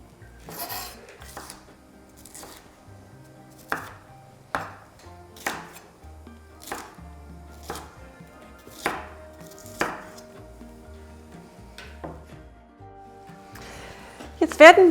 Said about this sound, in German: Die Paprikaschoten, die Zwiebeln schneiden wir in Würfel.